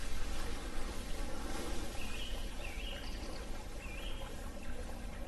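A small stream flows through a quiet, bucolic countryside path in Alsace, a soft, continuous trickle and babble with faint bird chirps over it and no voices.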